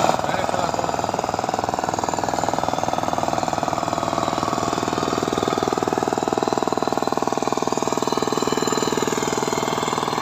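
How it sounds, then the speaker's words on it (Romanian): A two-wheel walking tractor engine runs steadily with a rapid, even chugging beat. It stays close and loud throughout, with no pauses. "Între timp am fost și la o plimbare cu motocultorul."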